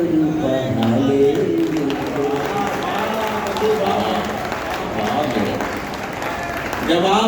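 An audience at a Hindi poetry recital claps loudly and steadily through the whole stretch, a dense wash of applause with some cheering mixed in.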